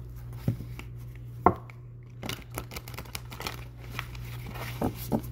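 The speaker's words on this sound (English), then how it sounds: "Let's see if I can get it to shuffle. Brand new cards." Crisp riffling and snapping of stiff new playing cards being shuffled, in short bursts with quiet gaps, close by over a low background hum.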